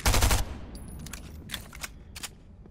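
Short burst of rapid gunfire from a gun in Fortnite, loud and close at the start, followed by a few fainter scattered shots and clicks.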